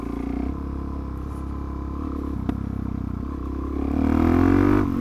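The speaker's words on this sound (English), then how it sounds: "Backfires, that's another thing you don't get on an electric." A Suzuki DR-Z400SM petrol motorcycle idles and rumbles steadily nearby, then revs briefly with a crackling backfire near the end, with no one talking.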